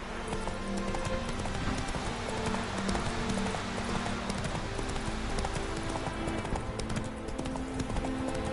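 Roach the horse's hooves in The Witcher 3 beat out a steady, continuous clip-clop rhythm under faint ambient noise.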